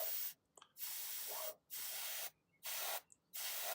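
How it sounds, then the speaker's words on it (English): Three short bursts of spray paint hissing onto a miniature titan model, close and even, each about a second long and separated by brief silences. "It's just little gentle spurts of spray, focusing on the centre of each section"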